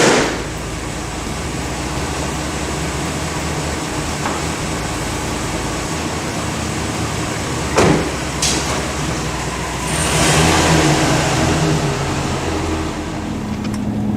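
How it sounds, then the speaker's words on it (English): A 2007 Chevy 2500HD pickup with a reduced engine power fault drives along the road, heard from inside as a steady low engine and road drone, with a couple of brief clicks and a swell of wind noise near the end. "We're going to drop the hood on this thing, take it down the road, and see how it drives."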